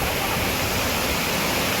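A resort waterfall pours steadily, a loud continuous broadband rush of falling water with no pauses and no voices.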